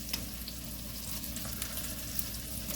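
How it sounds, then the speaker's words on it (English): Steak searing in a hot pan at home, a continuous dense sizzle with faint crackles and pops, steady and close with no talking. "I'm going to just let this sear."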